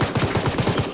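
Rapid automatic gunfire in Arma during a Zeus-run operation assaulting rebels and rescuing hostages: a loud, close burst of about eight evenly spaced shots in one second.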